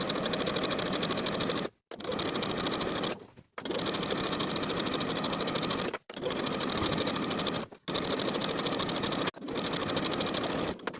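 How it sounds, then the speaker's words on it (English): A sewing machine edge-stitches around the bottom hem of a box-pleated skirt, running in loud, steady mechanical bursts of about two seconds each, separated by brief pauses, with no talking. "Now I'm going to edge stitch along my finishing stitches all the way around the bottom of the skirt."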